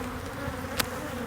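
Crowded honeybee hive droning with a constant close buzz, joined by one brief sharp crackle partway through; no one speaks.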